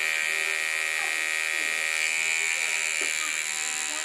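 An electric makeup brush cleaner spins a brush dry with a steady, high-pitched motor whine and buzz, loud and close, holding constant for several seconds without talking.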